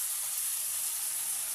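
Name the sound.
onions and prawns sizzling in hot oil for prawn curry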